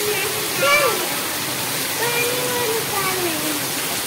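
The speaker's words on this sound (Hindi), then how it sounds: "बहुत तेज बारिश है" A downpour of heavy rain outside a home makes a constant broadband rush, with a voice speaking over the steady wash of water.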